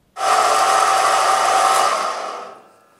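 A Harbor Freight bandsaw fitted with a Starrett blade whirs loudly and steadily up close for about two seconds, then winds down and fades to quiet.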